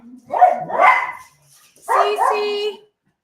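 Rescued cocker spaniels barking indoors, two bursts of near, loud barking and yipping with a short pause between, overlapping one another.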